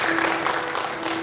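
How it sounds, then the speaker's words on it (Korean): A church congregation claps during a Sunday service, brief steady applause with a constant electronic hum from the sound system beneath it. "박수 한번 쳐주세요"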